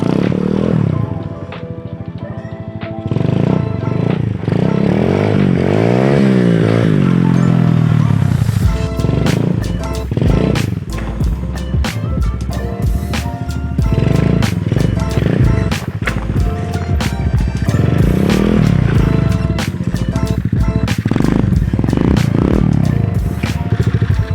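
A pit bike engine revs hard and rises in pitch as a rider tries wheelies, loud and close with repeated throttle bursts, rattling clatter and some wind noise.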